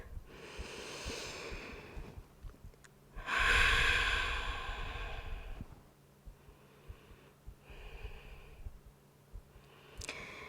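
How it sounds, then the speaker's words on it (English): One deep breath during a low back exercise session: a long, loud inhale swelling up close, then softer sighing breaths and small snorts trailing off. "Take a deep breath."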